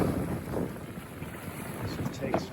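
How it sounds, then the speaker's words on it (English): A wind gust buffets a Buccaneer 18 sailboat out on the water, a rushing, blustery roar against the microphone with splashing beneath, fairly close and sustained. "Get the gust now."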